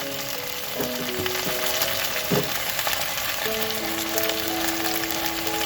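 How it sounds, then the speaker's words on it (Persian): Tomato paste fries in a pan with a bay leaf and a cinnamon stick. It gives a steady, soft sizzle with occasional stirring scrapes and a faint tone running underneath, with no speech. "ربم تفت میدم تا بوی خامیش گرفته بشه، تا رنگم این رنگ ربم باز بشه"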